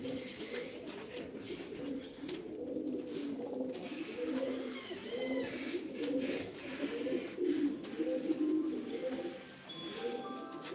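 Purebred Sivas pigeons coo in a steady, repeating rhythm of soft rolling calls, fairly close and moderately quiet, with faint background rustle and flutter.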